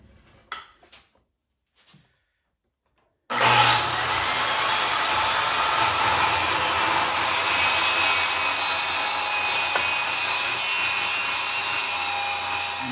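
A loud power saw starts after a few quiet clicks and bangs, then rips a strip of hardwood for a catboat restoration, cutting steadily with a harsh, high whining roar that holds for about ten seconds.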